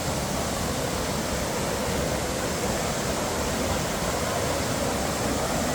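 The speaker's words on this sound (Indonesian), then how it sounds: "Ini dia curugnya guys, curug Bethlehem." Curug Batu Lempar waterfall in Cianjur roars as a loud, dense, continuous rush of falling water heard up close, with no talk over it.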